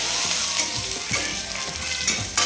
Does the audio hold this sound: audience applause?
no